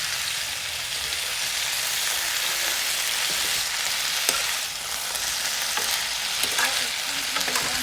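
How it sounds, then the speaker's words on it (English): Mixed vegetables with salt frying in a pan make a dense, loud, continuous sizzle, with occasional clicks and scrapes as they are stirred, no voices. "Let's stir it again."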